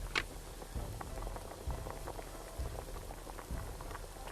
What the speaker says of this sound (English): I think it's boiling.